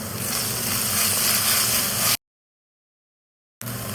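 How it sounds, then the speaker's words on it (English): Onions sauteing with ginger garlic paste in a pan give a steady, bright sizzle that runs continuously for about two seconds, cuts to silence, then returns briefly at the end. "Add about 1 teaspoon of ginger garlic paste and saute well."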